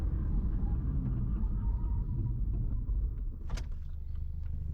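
A car brakes on a road while a steady engine and road rumble runs underneath, with a brief sharp sound near the end; no one speaks.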